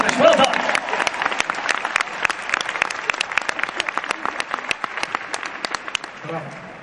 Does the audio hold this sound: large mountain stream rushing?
no